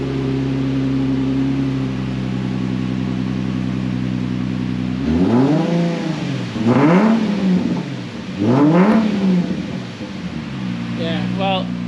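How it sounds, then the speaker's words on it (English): A car fitted with an aftermarket exhaust idles, then revs hard several times in rising and falling surges, a deep throaty exhaust roar close by, with voices talking around it. "Give it a little rev."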